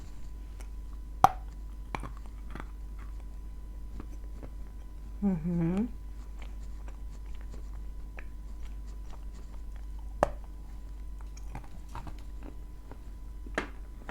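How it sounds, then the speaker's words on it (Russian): A thick, soft homemade cookie is bitten and chewed up close, with a short, muffled bite and no real crunch, amid a quiet room where a voice briefly murmurs. "Давайте возьмем потолще, вот такой, и попробуем откусить от него."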